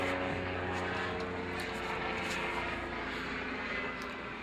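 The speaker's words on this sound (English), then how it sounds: "a bit like this noisy helicopter" Overhead aircraft drone, a steady broadband engine roar with low tonal hum, continuous and fairly faint, fitting a noisy helicopter passing above.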